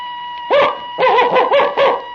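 A man in a 1948 radio drama imitates a dog with his voice, giving one short bark followed after a pause by a run of three or four rapid yapping barks, close and clear against a steady hum.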